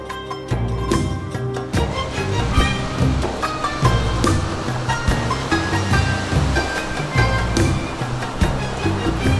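Black Sea waves washing onto the shore at Kıyıköy, a steady, loud surf with repeated crashing and hissing swells and no voices.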